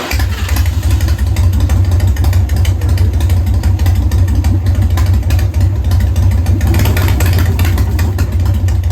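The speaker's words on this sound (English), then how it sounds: "Let it warm up and idle a little bit better here." A 1993 Harley-Davidson Softail idles while warming up, its engine a loud, close, steady rumble with a strong low throb that stays even and unbroken throughout.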